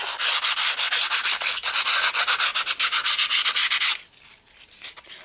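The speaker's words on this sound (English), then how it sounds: "we're going to sand the surface on the bottom of the banjo" Sandpaper worked rhythmically across the bottom surface of a wood lathe banjo, loud close back-and-forth rubbing strokes for about four seconds, then fading to quiet scuffing.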